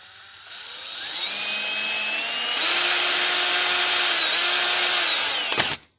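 A power drill with a cobalt bit whines steadily, rising in pitch as it spins against metal, then cuts off abruptly with a clatter.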